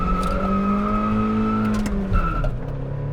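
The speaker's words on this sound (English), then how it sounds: "with a slight clutch kick, the rear end comes out" A 1999 Mazda MX-5 Miata NB with a 5-speed manual and limited slip differential revs hard after a clutch kick as its rear end slides out, engine note climbing, then a tire squeal near the end.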